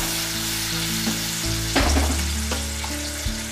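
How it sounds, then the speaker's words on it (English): Tomato puree sizzles steadily in a hot pan for a sweet tomato chutney, with a loud splattering burst as it lands and continued frying crackle afterward, no voices. "And then I'm going to add my tomato puree."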